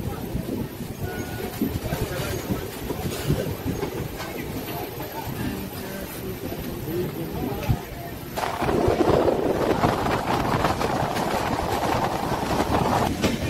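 A passenger train running from Howrah to Jasidih gives a steady, continuous rumble of wheels and carriages, with faint rhythmic clacking. The noise grows fuller and louder partway through, then holds at that level.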